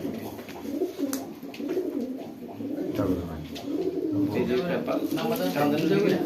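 Racing pigeons coo repeatedly at close range while being sealed for a pigeon racing tournament, with people talking steadily over the birds throughout.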